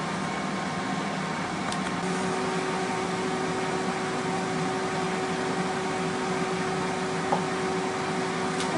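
A Power Air Fryer XL runs steadily after its basket is pushed back in, giving off an even, continuous fan whir and hum with a faint tonal drone, close and unchanging, with a small click or two.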